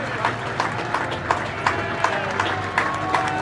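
A racecourse crowd at Punchestown cheers as Sprinter Sacre returns after the Champion Chase, a broad roar punctuated by rhythmic clip-clop of hooves close by and scattered applause.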